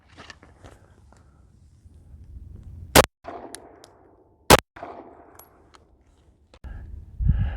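Two sharp, loud 9mm shots, one ball and one hollow point, fired outdoors into a wooden telephone pole, spaced about a second and a half apart amid quiet rustling and a few soft handling sounds.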